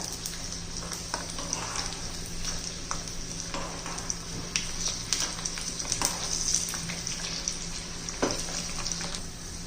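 Garlic and peanuts fry in a pan for an onion chutney, a steady close sizzle with light crackles and the occasional stir scrape, continuing without talk.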